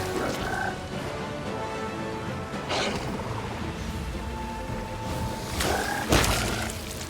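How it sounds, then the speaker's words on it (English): Deep, guttural croaking from a frog creature in the fantasy RPG Pathfinder Kingmaker, several loud throaty calls repeating over a dense, rumbling game soundscape. "Oh, goodbye, frog."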